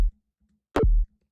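A short synthesized sound effect whose pitch bends and sweeps, preceded by a faint low thump, then silence.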